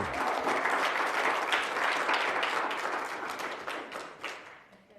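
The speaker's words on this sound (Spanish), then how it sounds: "Dele el aplauso" A church congregation applauds during a Spanish-language service, dense clapping from many hands that fades away toward the end.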